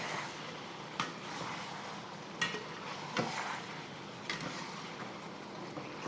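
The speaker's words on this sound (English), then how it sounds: "I can hear it sizzling." Vegetables stir-frying in a wok on a powerful induction burner, with a steady, fairly soft sizzle throughout and a few sharp tossing or stirring clatters at intervals.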